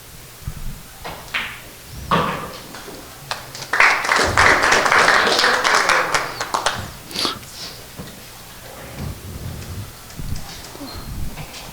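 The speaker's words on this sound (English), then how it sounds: "That clap was for Danny" Audience clapping at a 9-ball pool tournament, a moderate burst of applause building and fading over several seconds, with scattered quieter claps and room noise before and after.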